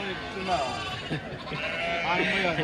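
Several sheep bleat repeatedly, close by, their calls overlapping amid a busy flock at a sheep market, with people talking in the background.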